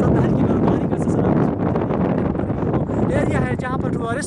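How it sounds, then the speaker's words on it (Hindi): Strong wind with light snowfall at a snowy mountain lake, buffeting the microphone as a loud, continuous rushing roar while a voice speaks over it. "यहाँ पर तेज हवाओं के साथ साथ हल्की बर्फबारी का सिलसिला"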